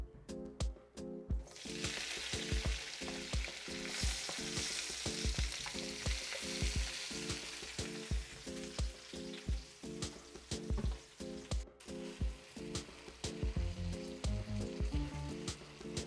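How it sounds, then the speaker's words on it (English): Tomato, onion, scallion and seasoning sautéing in a hot pot, a constant dense sizzle broken by many sharp utensil taps and scrapes, close and steady throughout with no talking. "I'm gonna saute all my vegetables. My tomato, my onion, my scallion, all my seasoning"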